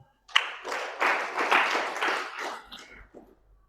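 A church congregation claps during a sermon, a short burst of hand-clapping that rises sharply, holds for about two seconds and then fades away to quiet.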